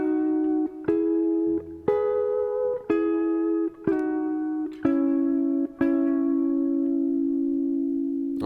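Close electric guitar works through a lick of about eight clean, sustained notes, with a half-step slide into the final held note.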